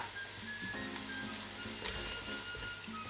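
Whole garlic cloves drop into a hot pot of oil for a spicy fish and vegetable soup, giving a soft, steady sizzle and crackle close by, with faint clinks and no talking.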